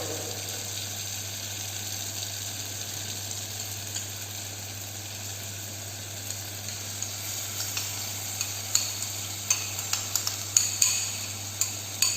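Chopped tomato sizzles in an Indian brown gravy pan in a quantity training kitchen, with a constant loud frying hiss and a steady hum behind it. Stirring clicks and scrapes grow more frequent toward the end.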